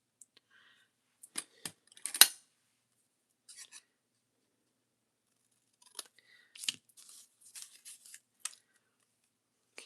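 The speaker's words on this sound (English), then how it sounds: "Scissors." Scissors cut through a piece of watercolor paper in a quiet room, giving a few sharp snips and crisp crunching cuts spread out across the stretch, with pauses between them.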